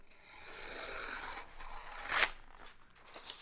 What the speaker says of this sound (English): Let's try to cut some paper.